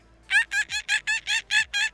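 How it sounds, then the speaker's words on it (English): Monkey sound effect: eight rapid, loud, chattering hoots in a quick even burst, close and alone. "That was a monkey."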